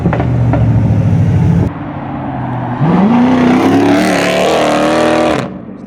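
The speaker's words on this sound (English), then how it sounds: "And he's revving it too." A Camaro at a car meet revs hard close by, the engine pitch climbing steeply and roaring loudly for several seconds before cutting off, with a brief drop in level in between.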